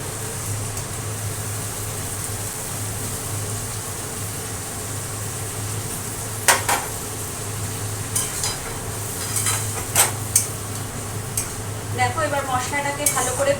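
Masala paste of chilli powder, turmeric, salt and sugar soaked in hot water frying in a pan, with a low steady sizzle, a hum in the background and a few sharp utensil clinks and scrapes toward the end.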